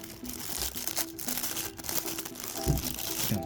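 Plastic packaging crinkles and crumples as the wrapping is pulled off a collectible figure's base. The handling noise is close and sounds in irregular bursts, with a couple of sharper crunches near the end.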